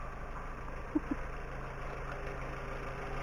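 Renault Clio petrol engine idling, a low steady hum heard faintly and continuously with a couple of small clicks.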